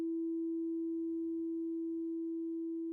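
A subtractive synthesizer holds a pure, steady tone with lowered sustain and raised decay, starting sharply and staying nearly level, with only a very slight fade; alone and moderately quiet.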